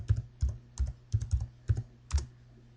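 Keys tapped on a computer keyboard while a username and password are entered, about seven quick clusters of clicks spread irregularly over a few seconds, close and fairly quiet with a low hum behind.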